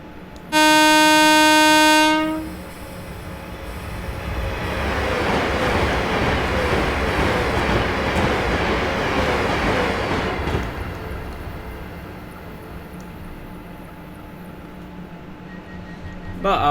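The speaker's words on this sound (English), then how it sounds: "Got Pendolino coming." In Train Simulator 2020, a Pendolino train sounds a loud two-tone horn, then rushes past with a swelling roar and rail clatter that builds, peaks and fades into quieter ambience.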